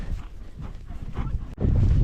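Off-track thoroughbred mare walking up a prickly hillside, hooves thudding in a steady, close clip-clop with a heavier footfall near the end.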